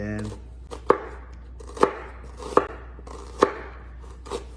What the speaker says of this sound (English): Want to slice down the center of the onion lengthwise